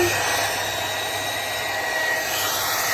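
A 2.5 kW hair dryer running off a solar-charged battery blows steadily at close range, a constant whooshing hum with a faint whine, unchanging throughout.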